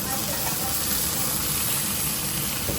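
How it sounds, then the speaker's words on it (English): Sirloin steak sears in a hot pan with a steady, dense sizzle that stays even and continuous from start to finish, with no break or change in level. "after the steak has been searing for a few minutes"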